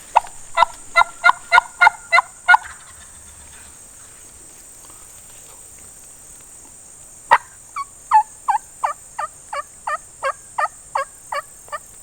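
A wild turkey hen calls in two bursts of rapid, evenly spaced yelps, nearby and clear against a quiet background with a steady high insect hum, in South Florida.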